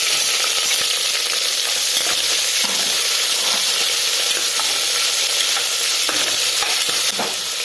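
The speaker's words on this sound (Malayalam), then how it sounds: "ഇത് നന്നായിട്ട് ചൂടായിട്ടുണ്ട് അതിലേക്ക് കട്ട് ചെയ്ത് വെച്ചിരിക്കുന്ന സവാള ഇട്ട് കൊടുക്കണം" Chopped onion sizzling in hot oil for a Kerala-style vegetable kurma, a loud steady frying hiss with occasional stirring scrapes, no voices.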